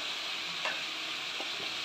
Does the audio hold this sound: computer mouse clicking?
no